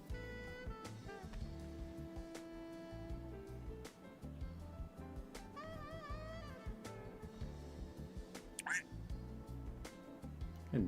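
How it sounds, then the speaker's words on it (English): A duck quacks outdoors during a night of winter flooding in Michigan, short nasal calls rising briefly over flowing water and steady background noise while people talk. "I heard a duck."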